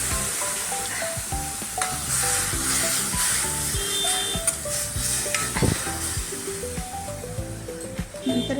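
Onion-tomato masala for chicken rassa sizzles loudly and steadily in a hot pan after a splash of water, with a constant close hiss and occasional stirring scrapes.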